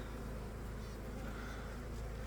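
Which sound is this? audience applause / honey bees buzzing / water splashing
honey bees buzzing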